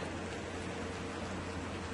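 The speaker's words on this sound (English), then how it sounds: "That's my rice frying up nicely with my meat and my pigeon pea." Rice frying with meat and pigeon peas in a pot gives a soft, even sizzling hiss, faint and steady throughout with no talking.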